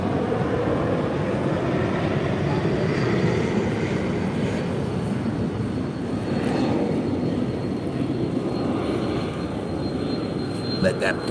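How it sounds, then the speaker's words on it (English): A plane passes overhead as a steady broadband roar that holds for the whole stretch, with a low rumble underneath and a faint swell in the middle. The sound comes through loud and constant, and no voices can be picked out. "Let that plane go by."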